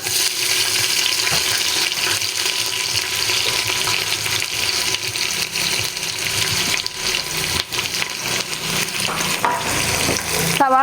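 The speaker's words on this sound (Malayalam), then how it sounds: "സവാള ചേർത്തിട്ടൊന്ന് വഴറ്റി കൊടുക്കാം." Sliced onions sauté in a pan for a pork curry, making a loud, close, continuous hiss that sounds almost like running water, with some brief shifting crackles.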